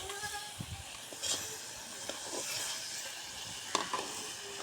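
Khuda bhaji sizzling in hot oil in a home kitchen, a steady soft frying hiss with occasional louder crackles and stirring scrapes, close and moderately quiet.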